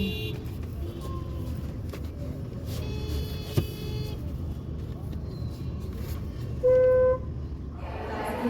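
Car moving through busy city traffic on the way to Lokmanya Tilak Terminus in Mumbai, with a steady road rumble, scattered horn toots and one longer honk near the end, while people talk in the background.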